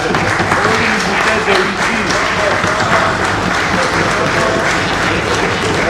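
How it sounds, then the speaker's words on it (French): Loud, dense audience applause at a gathering in front of cameras, a steady roar of many hands clapping that holds unbroken for several seconds, with voices blending in underneath. "ce sont des applaudissements frénétiques"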